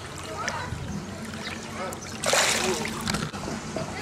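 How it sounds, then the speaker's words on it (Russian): Chlorinated pool water splashes and sloshes as someone swims and dives, with a louder burst of splashing midway, while voices chatter in the background. "Я тут один просто купаюсь, ныряю"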